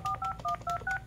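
DTMF keypad tones from a Yealink T42S desk phone as a number is dialed, five or six short dual-pitch beeps in a quick, even sequence, close and clear with no talking.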